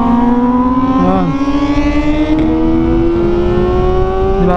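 A Kawasaki ZX25R inline-four sportbike engine runs loud and close, its high-pitched whine climbing steadily as the revs rise, a sustained tonal scream with no talk over it.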